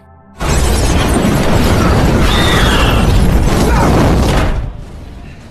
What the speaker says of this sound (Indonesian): disusul dengan guncangan hebat dan ledakan dari atas basement yang tiba-tiba saja terjadi